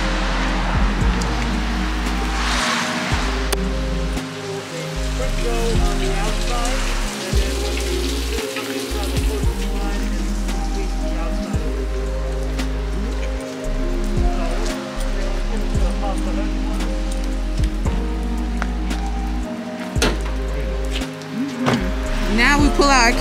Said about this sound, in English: Now we pull out our camera and when it starts raining hard.